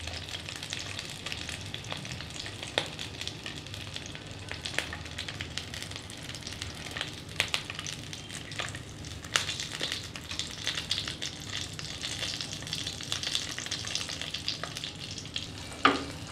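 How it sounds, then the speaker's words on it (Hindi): Stuffed green chillies fry over a low flame in a pan, giving a steady, close oil sizzle with crackles and spits and a few brief louder pops, and no talking. "हमने इस तरह से इसे पलटा कर अच्छी तरह से फ्राई कर लिया है।"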